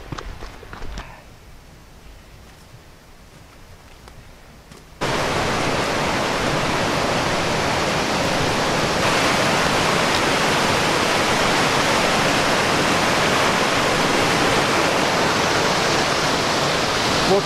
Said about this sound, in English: What creek is this? I think it's Willie George Creek.